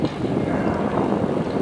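A military helicopter performs a display maneuver at an air show in Bengaluru, heard as a continuous dense rotor and engine roar at close range with no talk.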